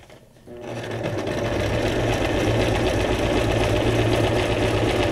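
Sewing machine stitching at a steady, fast pace, a continuous close whirring hum with a regular mechanical rattle that starts after a brief quiet moment and runs without pause.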